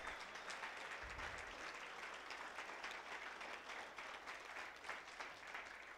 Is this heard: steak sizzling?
no